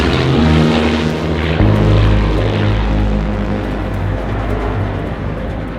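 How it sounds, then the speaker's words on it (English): Propeller-driven Spitfire fighter aircraft droning loudly overhead, a steady deep engine roar with a pitch shift partway through as it passes close by. "Spitfire!"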